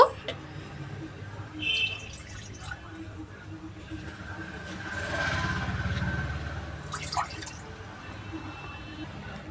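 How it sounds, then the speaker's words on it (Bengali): Two cups of water poured into a pan on a gas stove, a soft rushing pour swelling in the middle over low background noise. "এবার আমরা এর মধ্যে 2 কাপ জল দিয়ে নেব।"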